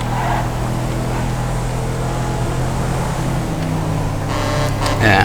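A rear-wheel-drive SUV in GTA V with the IVPack mod drives with a steady, loud engine drone that swells near the end as it revs harder.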